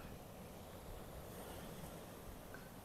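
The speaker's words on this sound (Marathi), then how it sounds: "किकू कसे बघते समुद्र?" A soft, steady wash of sea waves on a coast, faint and distant, blended with light wind noise and no distinct breaks.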